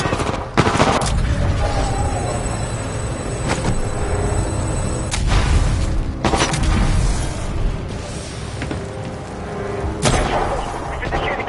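Gunfire rings out in the video game Titanfall 2: rapid automatic bursts and heavy booming shots repeat over about eleven seconds, loud and close, with several sharp blasts standing out among the dense firing.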